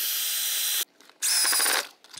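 A handheld drill drives screws during a DIY plant-mover build, two loud whirring bursts split by a short pause, the second burst rising in pitch, close up with no talk.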